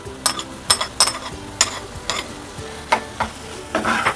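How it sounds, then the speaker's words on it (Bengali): A spatula scrapes and stirs cooked chicken and vegetables with tomato sauce and salt in a frying pan, about a dozen distinct stirring strokes over a soft sizzle, close and clear with no talk. "এখন একটু নেড়ে চেড়ে নামিয়ে নিব।"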